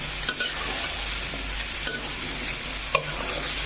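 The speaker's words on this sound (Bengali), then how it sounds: "একটু নাড়াচাড়া করে কষাচ্ছি" Taro pieces stirred and fried in a pan after hilsa fish, a quiet steady sizzle broken by a few sharp clicks of the spatula against the pan, close by, no talking.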